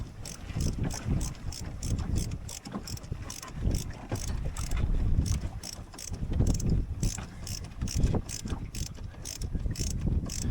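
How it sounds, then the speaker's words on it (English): A screw being driven in to secure the boom vang on a Drascombe Lugger sailing boat, giving a rapid, evenly spaced run of close ratcheting clicks throughout. "So we'll just put that screw back in there."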